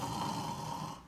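A storyteller's voice imitates snoring, making one short, close, rasping snore that fades at the end.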